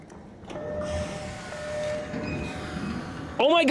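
A train rumbles and clatters on its tracks in the ARC Raiders video game, loud and continuous, with a sharp electronic tone near the end.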